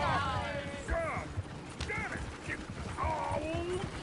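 Hooves of a horse-drawn coach clip-clop in Red Dead Redemption, a quick uneven patter heard under loud character dialogue along with faint rattling of the coach's mechanisms.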